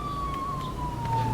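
Police siren in the video game GTA V, a steady wailing tone sliding slowly downward, sustained and fairly loud through the short stretch over a low rumbling game background.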